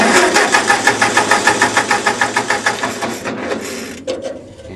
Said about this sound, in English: Now let's try turning the key back, and I'll crank it over